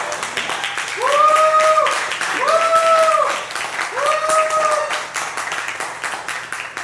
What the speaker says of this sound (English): a round of applause for Topaz